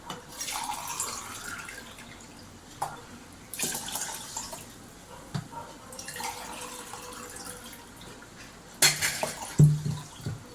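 Water is poured in a few short bursts, splashing into a pressure cooker for sakkarai pongal, with quiet pauses and small clinks between pours.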